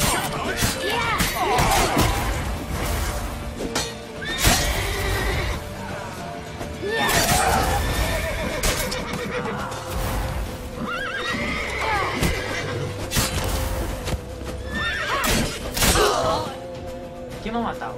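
Horses in The Witcher 3: Wild Hunt neigh and whinny repeatedly amid galloping hooves, crashes and battle noise, with voices shouting over the busy game soundscape.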